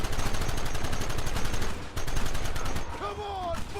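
Rapid gunfire from a Gatling gun in the Red Dead Redemption video game, dense repeated bursts running loud and nearly continuous, with brief talk and game effects near the end.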